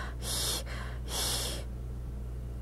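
A voice imitates a monster's heavy panting, two long raspy mouth-breathing breaths close to the microphone, followed by quiet.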